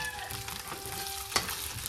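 Potatoes frying in a home kitchen pan, a steady soft sizzle with stirring scrapes and one sharp clink of the utensil against the pan near the end, at moderate level with no talking.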